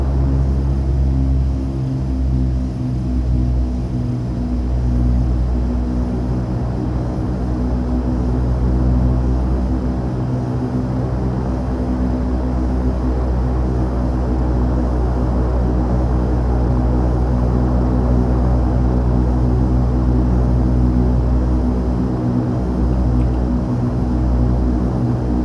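Twin turboprop engines of an Aero Commander 690B in X-Plane 11 drone steadily at the Grand Cayman runway, a loud, continuous low rumble with a mild swell as they spool up; no voices.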